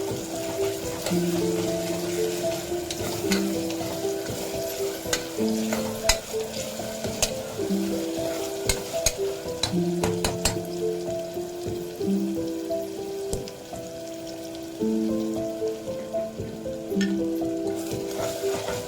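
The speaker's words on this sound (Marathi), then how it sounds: "आता मी ह्याच्यामध्ये टोमॅटो टाकते, चांगले परतून घेऊया।" Tomatoes frying in a pan for Malvani-style missal, with a steady sizzle and crackle under repeated scraping stirs of a spoon against the pan. A faint background tune plays throughout.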